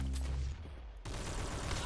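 Rapid automatic gun firing without recoil in a Roblox shooter, a quick faint burst of shots after a brief pause.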